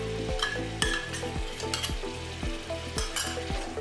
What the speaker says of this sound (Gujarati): હવે એમાં ટામેટાની પેસ્ટ એડ કરીશું